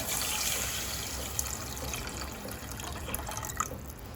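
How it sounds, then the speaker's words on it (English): Thin coconut milk pours steadily into a simmering masala for a pomfret caldine curry, making a continuous, close splashing and trickling wash of liquid with no talk. "Now let us add in the thin coconut milk"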